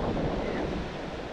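Sea waves wash against a shore while gusty wind buffets the microphone, making a continuous broad rushing roar that is fairly soft and close, with no voices heard.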